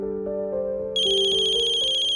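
A phone ringtone rings loud and close, a steady repeating electronic melody that jumps brighter partway through and keeps going with no talk over it.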